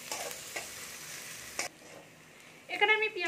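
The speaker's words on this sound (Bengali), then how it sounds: "এবার আমি পেঁয়াজটাকে একটু ভেজে নেবো পুরোটা" Onions fry in a pan for a small prawn (kucho chingri) dish, giving a soft sizzle with a few stir scrapes. The sound drops away midway, then a brief tonal sound rises near the end.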